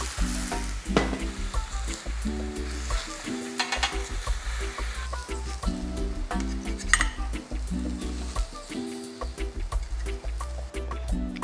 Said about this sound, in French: Dans la même poêle, et puisque j'ai de la place, je vais commencer à faire colorer mes bananes.